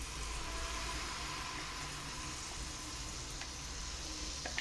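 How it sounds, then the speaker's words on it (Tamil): Ground coconut paste sizzles in hot ghee in a pan. The frying hiss is steady and soft and carries on without a break, with small faint crackles near the end and no talk. "இப்போது அதே நெய்லேயே நம்ம அரைச்சி வச்சுருக்க தேங்காய் பேஸ்ட்டையும் இது கூட சேர்த்துக்கலாம்"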